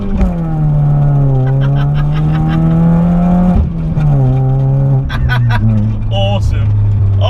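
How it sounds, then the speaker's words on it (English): A Ford Fiesta Zetec-S modified car engine revs up hard, pitch climbing through first gear, a brief drop at the shift, then rising again through second, loud and close. "let's see a nice little first and second gear pull for us."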